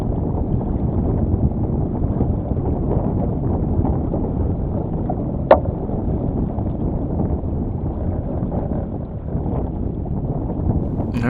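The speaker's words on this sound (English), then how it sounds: "The wind's starting to increase a little bit." Wind on a lake while sailing a Potter 15 sailboat, a steady low rushing roar buffeting the microphone with one short sharp knock midway, loud and continuous.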